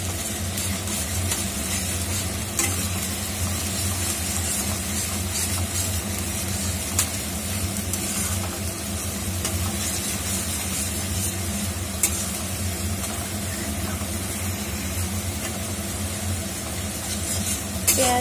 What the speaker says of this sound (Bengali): পেঁয়াজ বাটাটা দিয়ে একটু ভালোভাবে নেড়ে নেব